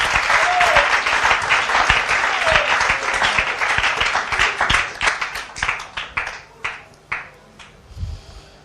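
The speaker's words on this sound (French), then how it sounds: "ça mérite une acclamation, mes amis" A church congregation gives dense, sustained applause that gradually thins into fewer, scattered claps before fading out.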